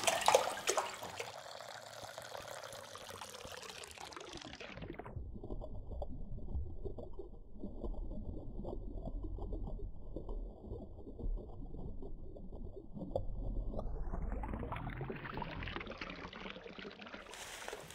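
Apple juice poured from a bottle into vinegar for a trout pickling brine, a continuous gurgling pour that begins after a few seconds and lasts about ten seconds, close and steady, with no talking.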